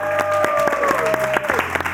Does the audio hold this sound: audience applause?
yes